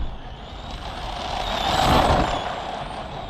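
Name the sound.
RC car driving at full throttle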